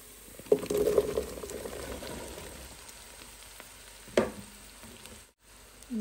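Vegetables tipped into a pan of browned onions frying in oil, giving a burst of sizzling near the start, then a steady low fry with a second clattering stir around the four-second mark.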